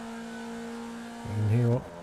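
A Formula Vee race car at Brands Hatch in the iRacing sim hums at a steady engine drone, then briefly revs up with a rising, wavering surge before settling back.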